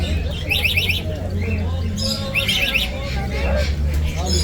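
Caged birds at the Tashkent bird market chirp and squawk in quick bursts, close and bright over a low market hubbub, with people talking nearby.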